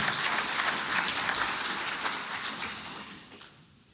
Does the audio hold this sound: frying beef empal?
no